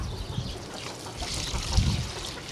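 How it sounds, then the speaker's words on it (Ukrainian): Water poured over lime in a container for slaking, a soft continuous trickle and splash at close range with a slight gurgle partway through, no talking. "Ми це вапно заливаємо водичкою."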